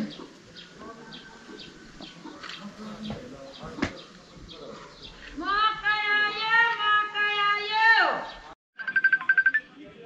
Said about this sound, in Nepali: मम्मीको फोन आयो है।